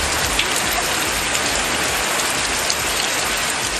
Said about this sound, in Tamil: எந்த ஒரு அறிகுறியும் இல்லாமல் திடீரென மிதமான மழை பெய்தது